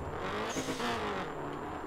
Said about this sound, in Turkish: Arabanın sesini de bir dinleyelim.